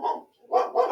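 Dogs bark in short bursts, two or three quick barks within under a second, fairly close and moderately loud with no talking.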